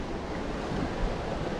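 Wind blowing over shallow reef water at sea while out fishing, heard as a steady, loud broadband rush with wave wash and buffeting against the microphone and no voices.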